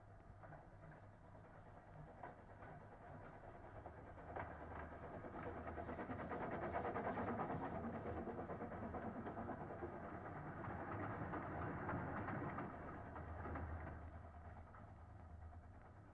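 A steam locomotive hauling a heavy train approaches from a distance near Dolgoch. Its low, steady engine rumble swells gradually and then eases slightly, with no voices.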